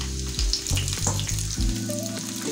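Marinated chicken wings frying in hot oil, a loud, steady close sizzle and crackle that keeps going without a break and with nobody talking.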